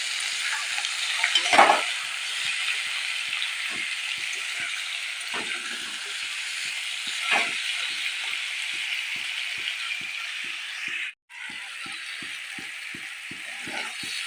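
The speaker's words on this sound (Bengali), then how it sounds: "হলুদ গুঁড়ো দিয়ে দিলাম। লবণ দিয়ে দিলাম। দিয়ে ভালো করে ভেজে নেব।" Papaya and potato curry with turmeric and salt frying in a pan: continuous sizzle under a steady, regular scrape of a spatula stirring, with one brief pause near the end.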